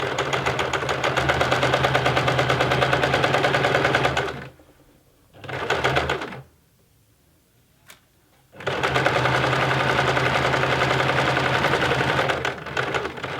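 Sewing machine stitching a honeybee cushion, a fast steady mechanical whir in two long bursts separated by brief starts and a quiet pause, close and loud with no talk.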